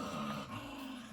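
A dog growls low and steadily at three puppies pestering it, a close, continuous rumble lasting about a second with no speech over it.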